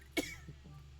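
A single sharp cough bursts out close by, followed by faint low throaty sounds and quiet background hum.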